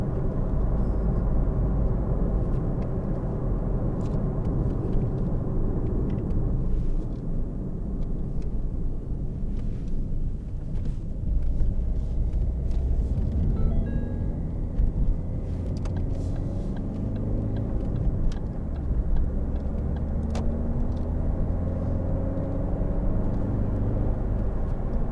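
A 2013 Ford Focus 1.6 TDCi ECOnetic diesel hatchback is driven on the road, giving a steady rumbling engine and road noise with shifting tones as it picks up speed, heard from inside the car.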